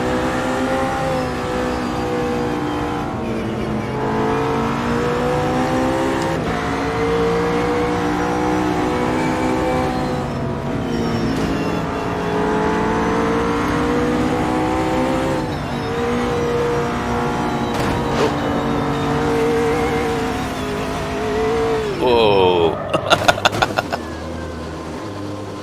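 A racing car's engine drones and rises and falls through gear changes during a VR racing game, steady and continuous, with a brief clattering burst near the end.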